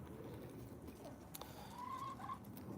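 A chicken clucks faintly in the distance, a couple of short calls over quiet outdoor background noise.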